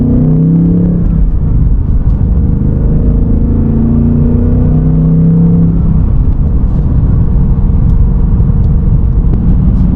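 A 2024 Ford Mustang GT engine rumbles loudly and steadily up close while driving, its pitch rising and falling as it revs and shifts.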